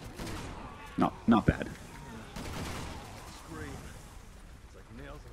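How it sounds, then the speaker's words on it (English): Shotgun blasts in the video game Resident Evil 6, a few sharp loud reports close together early on, set over game ambience and someone talking. "This shotgun is way better."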